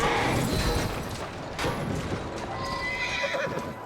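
A horse in the Victorian London setting of the video game Assassin's Creed Syndicate gives a loud close whinny over the clip-clop of its hooves, against a busy background of ambient street noise.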